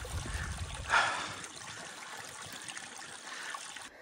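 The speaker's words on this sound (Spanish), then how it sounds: "Cuando hay agua corriendo así como la que miramos ahí, haz de cuenta agua filtrada" Water trickles steadily in a running stream along a trail to ruins in the mountains, a soft continuous babble with a brief louder splash near the start, heard alone at moderate distance.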